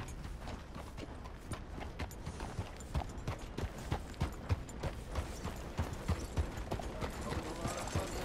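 An old horse's hooves clip-clop in a steady, fairly close walking rhythm, with faint background noise and no talking.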